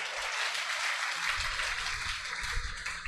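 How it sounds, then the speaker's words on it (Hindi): Quiet, steady applause from an audience at a Hindi poetry gathering in Prayagraj, continuous clapping heard from some distance with a low rumble of room noise beneath it. "इसके लिए एक बार आप अपने लिए जोरदार तालियां बजाएं।"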